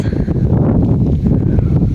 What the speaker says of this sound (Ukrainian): Вітер так і не вщух у нас.